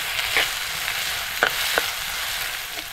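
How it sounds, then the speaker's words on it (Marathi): Onion sizzles and fries in a pan with browned garlic, a steady close hiss of hot oil broken by a few brief clinks of a stirring spoon. "लसूण थोडी लाल झाली की आता आपल्याला ह्याच्यात कांदा टाकायचा."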